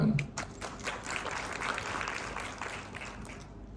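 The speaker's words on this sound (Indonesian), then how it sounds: "Tepuk tangan untuk Tuhan." A church congregation at GBI Rock Cianjur claps in praise during a sermon, a modest, fairly quiet patter of hands that starts with a few sharp claps and slowly fades.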